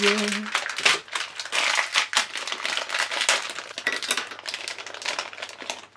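Plastic packaging around a Littlest Pet Shop figurine is torn open by hand without scissors: continuous close crinkling, rustling and snapping of plastic, irregular and fairly quiet, with a brief hum at the start.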